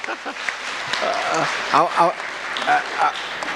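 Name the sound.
audience applause for the auditor at a conference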